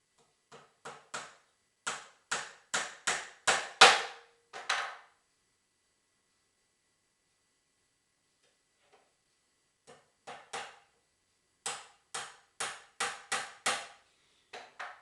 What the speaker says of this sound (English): So secure that with one nail at each end.